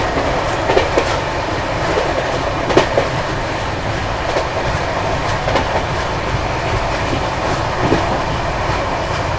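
The Vande Bharat Express running from Gandhinagar Capital to Mumbai Central rushes past at a crossing, loud and close, with continuous wheel rumble and repeated clickety-clack beats from the rail joints.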